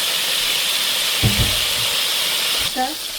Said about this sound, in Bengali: দুইবারে ভাজতে হবে